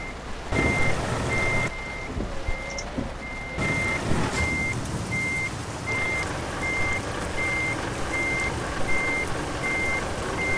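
A heavy truck in Euro Truck Simulator 2 backs up with a steady, evenly spaced reversing beep over a constant engine drone, loud and close, with a brief burst of engine noise partway through and no speech.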